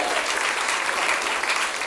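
A comedy club audience claps at a stand-up show, a brief burst of dense, even applause from many hands, steady and full without any break.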